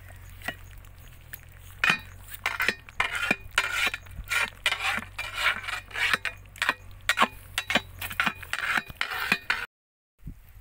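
A spoon scraping and stirring fish biryani in a metal pot outdoors in a coconut grove, a rhythmic series of close clinks and rasping scrapes that stops abruptly near the end.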